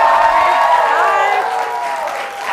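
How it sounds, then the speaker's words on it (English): An audience cheering and applauding for Miss Kendall, a loud continuous wash of clapping and cheers with voices mixed in, strongest at first and tapering slightly toward the end. "Cheer for her too."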